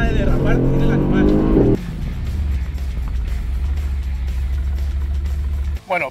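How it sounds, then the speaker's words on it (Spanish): A Porsche 911 GT3 or Mercedes-AMG GT R sports car drifts on a race circuit in Qatar, its engine loud and close with a sharp rise in pitch before settling into a steady roar while someone talks over it. "Fíjate qué manera de derrapar tiene el animal."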